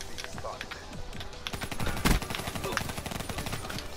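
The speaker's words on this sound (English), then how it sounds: "I can't even shoot a mag without getting shot at in the next like 2 seconds" Gunfire in a first-person shooter video game rattles in rapid automatic bursts, growing louder and denser midway as several weapons fire close together.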